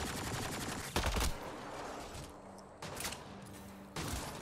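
Automatic and rapid gunfire in the video game Mass Effect Andromeda on PS4 Pro, dense bursts of shots with short pauses and a heavier impact burst, loud and continuous across the stretch without talk.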